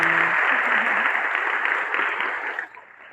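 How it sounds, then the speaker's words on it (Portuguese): A gathering applauds the Lord right after a closing prayer: dense, steady clapping that holds for about two and a half seconds, then quickly fades away. "Pode aplaudir o Senhor, em nome"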